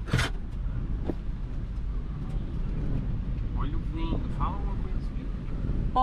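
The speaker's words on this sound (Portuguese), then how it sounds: "Olha o vento que tá dando aqui" Strong wind buffets the microphone at a roadside gas station in Chuí, Rio Grande do Sul, a steady low rumbling gust noise with faint passing traffic and brief scattered voices over it.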